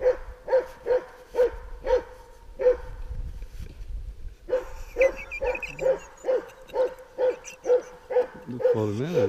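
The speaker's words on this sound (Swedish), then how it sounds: "Han var ju väldigt lugn innan han började skälla" A six-month-old young dog barks repeatedly at a moose outdoors, sharp regular yaps in a steady rhythm with a brief pause midway, close and fairly loud, ending in a rising whine.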